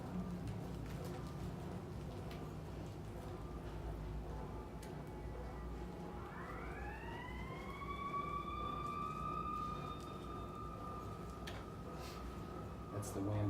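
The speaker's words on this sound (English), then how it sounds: "That's the ambulance." An ambulance siren rises in and holds a steady, loud wail in the second half, heard under ongoing room noise at an indoor group session.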